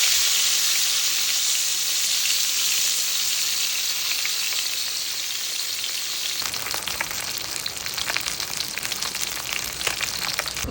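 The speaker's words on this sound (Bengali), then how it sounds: "এখন মাছটাকে হচ্ছে দিয়ে দিলাম। মাছটাকে খুব ভালো করে এপিট ওপিট কড়া করে ভেজে নেব।" Taki fish frying in hot oil in a wok, a steady dense sizzle that runs throughout with brief crackles and pops near the pan, no voices.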